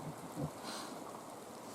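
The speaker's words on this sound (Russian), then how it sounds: "О, ветрище какое." Strong wind gusts blow outdoors during a hunting trip, a steady broad roar buffeting the microphone at low level, with no talking.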